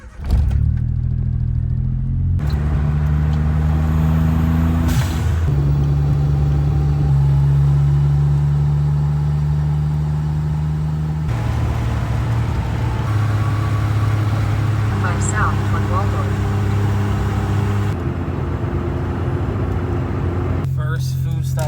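A Suzuki Alto Works K car cranks and catches, then its small engine settles into a loud, close idle with repeated revs rising and falling in stepped bursts, a brief voice heard over the start.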